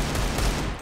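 Rapid gunfire in a first-person shooter video game, including a Desert Eagle pistol, a loud continuous burst of shots lasting under a second with no talk over it.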